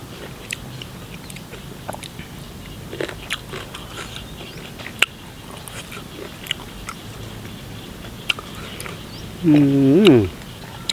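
Close chewing and crunching of bitter gourd with a chili dip, eaten outdoors near a rice field, as a series of soft bites and scrapes, with a brief voice near the end.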